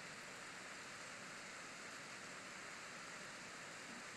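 Rain in the 3DS game Harvest Moon: Tale of Two Towns, a steady, even hiss of falling rain with no breaks or voices, soft and continuous.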